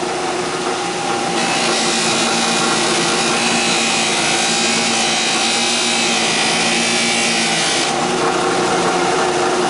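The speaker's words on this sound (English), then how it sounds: "we are polishing the brass" Brass is polished with a powered tool, making a loud, continuous abrasive whir that turns harsher and brighter through the middle stretch before easing back. Nobody speaks.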